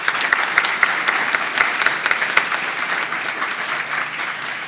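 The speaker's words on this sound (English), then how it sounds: "but a round of applause." Audience applause at a Deputy Minister's Awards 2025 ceremony: a steady, dense round of clapping from a crowd that holds evenly for several seconds without voices.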